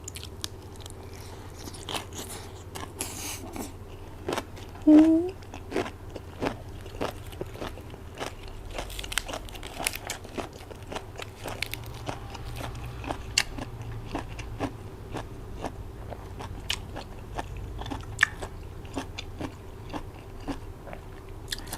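Crispy fried snack bitten and crunched during a spicy papaya salad eating show, a long run of sharp close crunches and chewing crackles at an irregular rhythm, with a brief vocal sound near the start.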